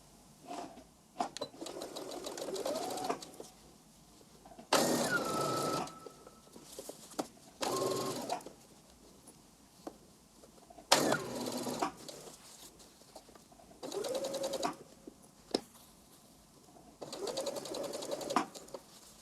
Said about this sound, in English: the pieces together 1 centimeter from the edge